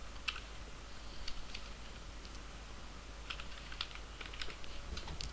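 Quiet, scattered keystrokes on a computer keyboard while a leave form is filled in with HR software, soft irregular clicks over a low steady hum.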